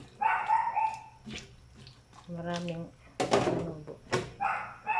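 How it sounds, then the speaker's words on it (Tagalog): A dog barks noisily in a home kitchen, sharp repeated yaps breaking through as a person talks over them, with clattering and water-like background sounds. "Ang ingay ng aso."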